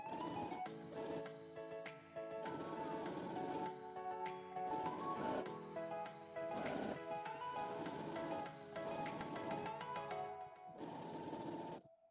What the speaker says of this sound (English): I'll go to my sewing machine and sew following my 1 inch seam allowance